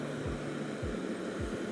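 A soft, steady hiss from a running portable power station on AC output, faint and even, with a few low thumps underneath.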